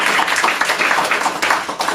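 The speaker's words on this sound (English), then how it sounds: "let's give Kate a big round of applause" A conference audience at an accessibility training day gives a big round of applause, a dense, steady patter of many hands clapping close by for two seconds, with no voices over it.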